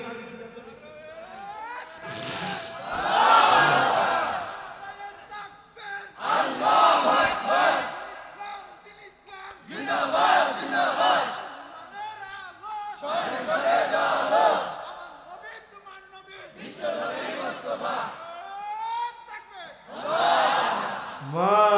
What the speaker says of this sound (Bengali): জোরে একজনে তাকবীর দেন তো দেখি